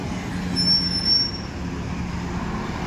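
Road traffic rumbling past a roadside stop near Kolhapur, a steady low engine drone that swells twice as vehicles pass, with a faint high whine and no talk.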